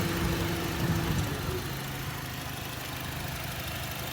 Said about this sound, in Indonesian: Dan ini saat kondisi AC menyala, mesin tetap stabil.